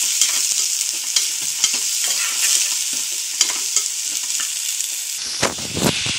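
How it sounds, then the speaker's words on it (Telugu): Onions fry in a pan with a steady bright sizzle, while a spoon scrapes and stirs in short repeated strokes close by, ending with a couple of sharper clatters. "ఆనియన్స్ ఫ్రై అయ్యాయి కదా"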